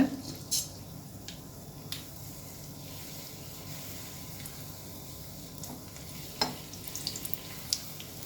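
Rava paniyaram batter cooking in a hot paniyaram pan, a low steady frying sizzle throughout, close and quiet, with a few sharp clicks and taps of utensils against the pan.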